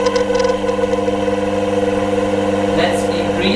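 A small DC electric motor runs with a steady tonal hum and buzzing overtones at constant pitch, loud and close, briefly joined by a higher whirring sweep near the end.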